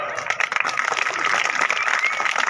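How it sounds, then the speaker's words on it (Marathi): Loud, dense applause from the audience at an annual school gathering, a continuous wash of clapping hands that holds steady throughout with no pause. "मला जोरात टाळ्या वाजल्या"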